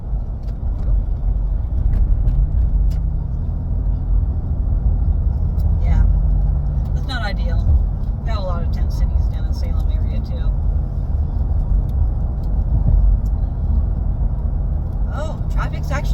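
A car drives in moving traffic on the I-84 highway, with a steady low road and engine rumble throughout, faint whooshes of passing vehicles and occasional light interior rattles close by.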